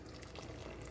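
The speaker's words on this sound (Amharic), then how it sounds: "እሺ ትንሽ ውሃ እንጨምራለን።" A small amount of water is poured into a pot of spiced food being cooked, a faint, brief splashing trickle with no talk.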